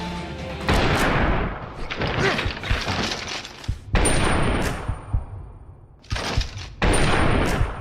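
Loud gunfire in a Binary Domain cutscene during the final boss fight: several heavy bursts of shots with crashing, shattering impacts, rolling in dense waves with short gaps between them, close and forceful.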